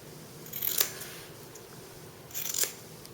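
Scissors snip through fabric to cut out a 1.5-inch corner square for a cross body bag, with two short close cutting strokes about two seconds apart in a quiet room.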